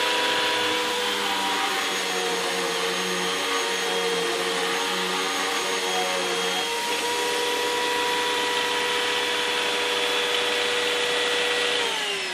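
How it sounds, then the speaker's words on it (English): A household vacuum cleaner run by a toddler whines steadily and loudly at close range, its motor pitch shifting slightly midway, with no talking over it for around twelve seconds. "A little out of control with the vacuum,"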